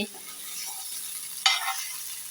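Fish frying in shallow oil in a pan, a steady soft sizzle with a brief sharper crackle as the pieces are turned.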